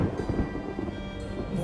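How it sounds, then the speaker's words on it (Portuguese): Thunder from a lightning strike rumbles heavily with pouring rain, a loud, continuous low roar filling the whole moment with no voices. "Acho que a gente foi atingido por um raio."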